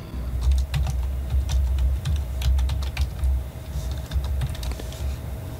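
Rapid, irregular keystrokes clatter on a computer keyboard, continuing steadily throughout over a low constant hum.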